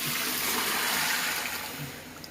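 Water is poured into a large pot of rice for Pakistani-style chickpea pulao, a loud, continuous rushing splash that eases slightly toward the end, with no voices.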